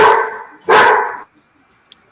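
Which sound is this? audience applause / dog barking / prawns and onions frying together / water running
dog barking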